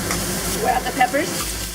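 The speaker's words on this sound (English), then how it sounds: "We'll add the peppers." Sweet chili peppers stir-frying with beef, onion and carrot in a hot wok: a steady close sizzle with soft scraping stirs and small crackling pops, no talking.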